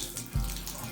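A tap runs water into a sink or bucket during plastering work, a short steady splashing flow that starts abruptly and continues close by.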